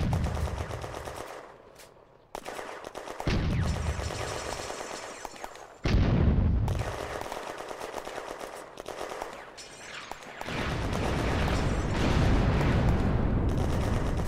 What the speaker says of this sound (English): The shells smash into the buildings north of the square